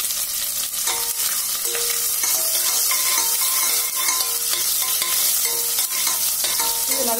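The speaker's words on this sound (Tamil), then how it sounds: "நல்லா பொன்னிறமாக நல்லா ப்ரௌன் கலரில் வதங்கட்டும்" Onions and spices frying in a pan with a handful of leaves for mutton biryani, a continuous loud close sizzle with scattered stirring scrapes and light spoon knocks, no voices.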